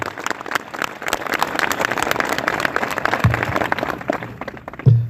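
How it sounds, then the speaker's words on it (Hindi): An audience at a Christian revival meeting claps steadily for Jesus, a dense sustained patter of many hands that swells near the end. "give a good clap for Jesus"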